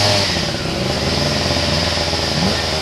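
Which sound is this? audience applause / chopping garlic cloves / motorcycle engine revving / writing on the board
motorcycle engine revving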